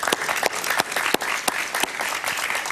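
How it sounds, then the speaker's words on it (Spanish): Studio audience applause greets a Venezuelan sociologist guest on a Miami talk show, a dense, steady wash of clapping with a few sharper claps standing out throughout. "Un aplauso para él, por favor"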